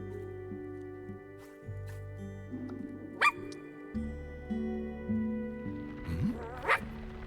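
A dog in the video game I Am Dead gives brief barks and soft whimpers over a steady bed of layered game music, the yelps rising near the end.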